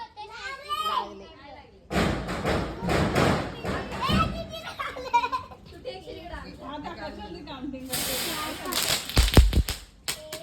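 Sharp cracking firecracker bangs go off in quick bursts near the end of a Tulsi wedding celebration, following a stretch of children shouting and chattering nearby.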